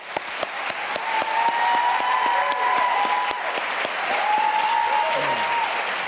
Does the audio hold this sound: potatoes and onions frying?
no